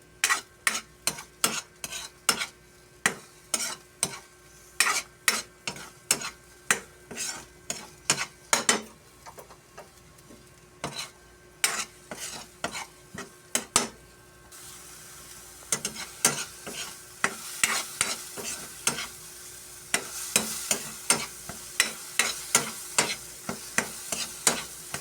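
A utensil stirs and scrapes an omelette in a sizzling pan as it cooks, producing sharp, rhythmic clinks against the metal over a steady soft frying hiss, close and without talk.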